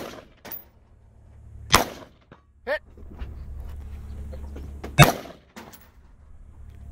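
Gunshots at a 3-gun shooting competition ring out as a few loud, separate cracks spaced over several seconds, with quieter handling sounds between them.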